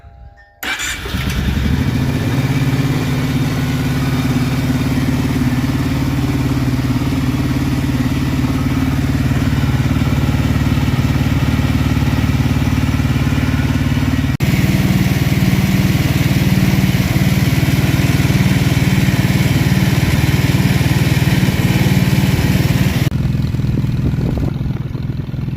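A Kawasaki Brute Force 750 ATV engine, carburetors freshly cleaned, fires up with the choke on and settles into a steady, loud, close rumbling idle with light mechanical clatter that runs the whole time, with no talking.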